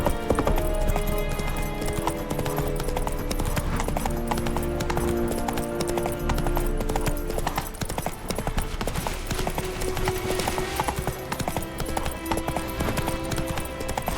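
Horse hooves clip-clopping in a steady galloping rhythm in the Witcher 3 video game, loud and close, with a brief whinny and a short spoken line over game music.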